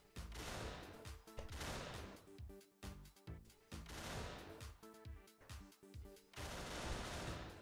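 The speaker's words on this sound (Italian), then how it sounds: "Ho sparato 6 colpi!" Rapid bursts of gunfire from the Pummel Party video game, loud and dense, with repeated volleys of shots separated by brief pauses and no talk over them.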